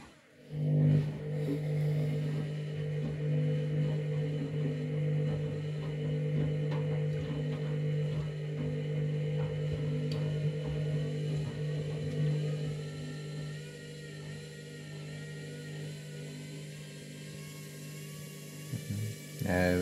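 A washing machine holding a bath mat runs its final spin, a steady loud mechanical hum and whine with faint rattles throughout, shifting slightly near the end.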